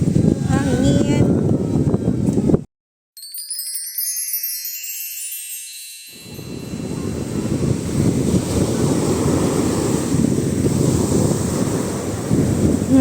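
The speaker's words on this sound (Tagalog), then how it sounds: "Ang lakas ng alon." Strong ocean surf along the Ilocos coast, heavy rumbling waves mixed with gusting wind buffeting the microphone, broken by a brief silent gap and a short electronic chirp before the roar returns.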